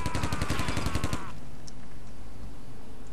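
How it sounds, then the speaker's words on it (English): Rapid automatic fire in Silent Storm shoots a hole in a wall: a quick evenly spaced burst of shots that cuts off after about a second, leaving quiet room tone. "Shoot a hole in the wall."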